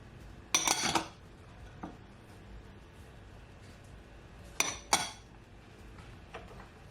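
Metal utensil clinks and scrapes against a bowl while seasoning is blended for garlic shrimp noodles, two bursts of sharp clatter separated by quiet, with a few fainter taps.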